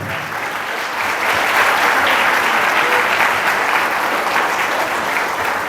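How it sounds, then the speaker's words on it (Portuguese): A church congregation applauds during a sermon, producing a loud, continuous roar of clapping from many people that swells after the first second and holds steady to the end. "Pode aplaudir a Jesus de Nazaré."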